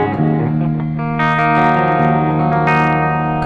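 An electric guitar played through a Wampler Pinnacle Deluxe V2 distortion pedal rings out as loud, sustained overdriven chords with rich harmonics and reverb, and a few sharper strums near the end.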